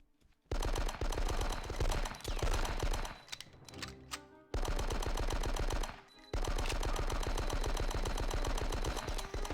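Rapid automatic gunfire from a gunfight in the Die Hard: Nakatomi Plaza video game, with long sustained bursts broken by brief pauses and a few single shots, loud and close, no talking.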